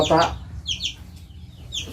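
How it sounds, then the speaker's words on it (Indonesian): A baby chick peeps in a few short, high chirps during a stage magic show, fairly close, with a brief voice at the start. "bisa saya keluarkan seekor anak ayam"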